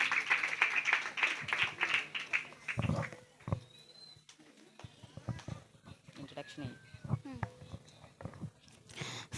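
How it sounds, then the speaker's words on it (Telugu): At a Sunday school Christmas celebration in a prayer hall, an audience gives sparse, uneven handclaps at moderate distance just after a voice speaks, with light talk and shuffling around the claps. "వారు వస్తుండగా క్లాప్స్ కొట్టి వారిని ప్రోత్సహిద్దామండి అందరం"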